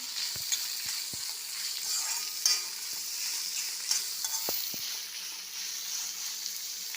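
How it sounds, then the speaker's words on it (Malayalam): Sliced onions sauté in a pan with a constant close sizzle, broken by repeated light knocks and scrapes of a spatula stirring them. "ഇതിലേക്ക് നമുക്ക് സവാള ഇട്ട് കൊടുക്കാം സവാള നല്ലപോലെ ഒന്ന് വഴറ്റിയെടുക്കണം"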